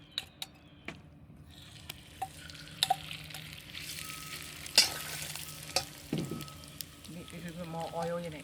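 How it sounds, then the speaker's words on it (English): Shrimp sizzle quietly in an oiled pan, a soft steady frying hiss broken by scattered clicks and taps of a utensil against the pan, with a person speaking briefly nearby. "I'm going to cook the shrimp."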